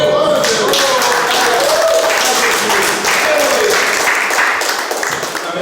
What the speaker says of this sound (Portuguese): Nossas palmas aqui são sempre para Jesus